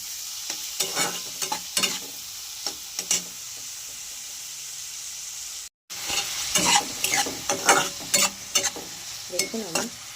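Egg tarka ingredients with chillies fry in a pan and are stirred repeatedly, giving a steady close sizzle broken by scraping strokes and a brief dropout near the middle; no one speaks.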